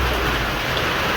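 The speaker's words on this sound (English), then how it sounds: "that rain's gonna come in hard" Heavy rain pouring down outdoors, a dense steady broadband hiss with no gaps, loud and close, no voices.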